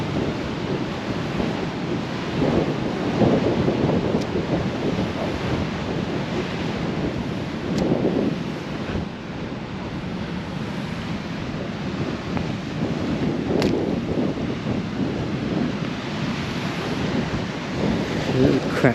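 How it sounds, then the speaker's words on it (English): Sea waves wash in and break steadily against the basalt columns of the Giant's Causeway on the Northern Ireland coast, a continuous loud surging roar with periodic swells and heavy wind buffeting the microphone. "and then down here where the sea comes in"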